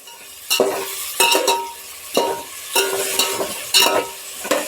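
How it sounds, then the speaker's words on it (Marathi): Onions frying in a pan for a Maharashtrian mixed vegetable curry, with a steady sizzle broken by repeated scraping stir strokes every half second or so, close and moderately loud, no talk. "असं भाजून घ्यायचं कांदा बघा लाल झालाय"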